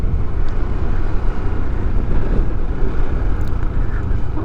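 Loud, strong wind buffets the microphone in a constant rumbling roar with gusty surges throughout, on the Alaminos–San Pablo bypass road in the Philippines.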